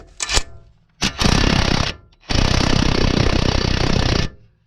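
Two long bursts of a loud rattling power tool hammering away up close, spinning a ball joint on a BMW 116i, with a couple of quick clicks and brief trigger pulls before them.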